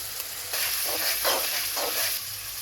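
Chopped chillies hitting hot oil with onions in a pan, a steady broadband sizzle that swells in a few bursts as the pieces are stirred, close and continuous with no talking.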